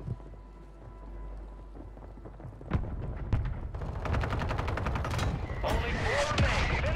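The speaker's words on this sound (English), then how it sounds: "Friendly mortar strike on the way." A friendly mortar strike in Call of Duty lands on Rebirth Island. A quiet rumble builds into a run of sharp, loud blasts and crackling gunfire, with dense impacts close together near the end.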